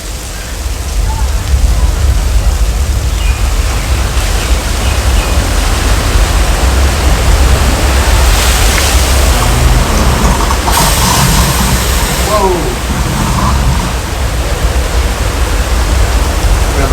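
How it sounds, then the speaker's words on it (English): A simulated rainstorm and flash flood on the Universal Studios Hollywood tram tour, made by dumping thousands of gallons of recycled water from large hillside tanks, roars as a loud, steady wash of rushing water with surges throughout. "That flood was caused by dumping thousands of gallons of recycled water from large tanks of the hill."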